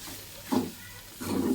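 Soybeans frying in hot oil, a soft sizzle that swells in two short bursts of hissing and crackle.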